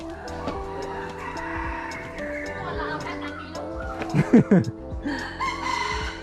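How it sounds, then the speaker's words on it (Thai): Domestic chickens cluck and crow among visitors at Khao Kheow Open Zoo in Thailand, with a burst of loud crowing near the middle over background voices and movement. "เฮ้ยมีไก่บ้านด้วย"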